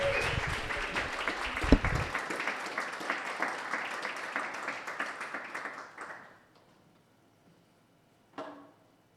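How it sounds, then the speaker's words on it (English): An audience applauds at a Sheffield music talk, a dense, steady clapping that runs for about six seconds, then stops abruptly, followed by a brief isolated sound near the end. "Now start clapping here."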